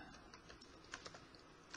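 Typing on a computer keyboard, a few light, scattered key taps, soft and close, with no one talking.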